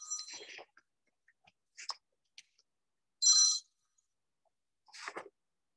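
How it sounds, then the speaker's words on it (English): A telephone ringtone sounds during a classroom math lecture: one short, bright electronic ringing burst stands out clearly, surrounded by faint scattered room noises and brief quiet voice fragments. "Oh, phone, go away."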